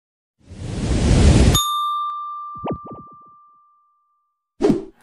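A notification bell sound effect: a rushing whoosh swells, then cuts to a bright, clear ding that rings out and slowly fades, with a short sharp burst near the end.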